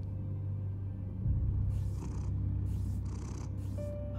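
A cat purrs in Batman: The Telltale Series, a steady low rumbling purr running continuously and fairly loud up close, with brief brighter game sounds flickering over it near the end.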